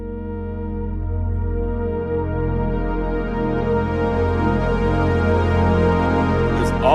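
A sustained, harmonically rich Zebra synthesizer pad with slowly evolving, slightly unstable pitch, holding steady and loud with no pauses and no voices.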